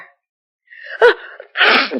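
A single sharp sneeze, preceded by a short breathy intake, close and fairly loud, followed by a brief exhale.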